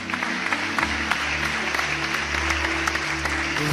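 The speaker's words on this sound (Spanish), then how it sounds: "Dale un aplauso fuerte al Señor." A church congregation applauding loudly during a sermon, steady dense clapping throughout with a low hum from the sound system beneath.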